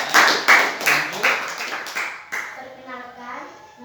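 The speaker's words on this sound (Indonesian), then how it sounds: "Oke, tepuk tangan." A group of children in a school classroom clap in a burst of loud, irregular claps that fades out, with a voice starting to speak near the end.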